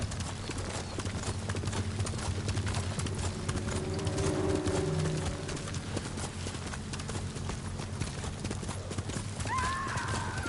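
Hooves clip-clop steadily as a horse gallops in the samurai video game Ghost of Tsushima, a continuous rhythmic pounding throughout, with a short neigh near the end.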